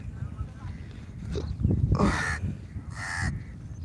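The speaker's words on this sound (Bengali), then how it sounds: "এই দেখুন একটা কাক কাকা করছে" A crow caws twice, loud and harsh, on the bank of the Jamuna river in the morning, over low background rumble and faint talk.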